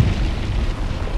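A ring breaking on the boss High Lord Wolnir in Dark Souls 3, a loud, sustained booming burst with a deep rumbling low end, filling the whole moment.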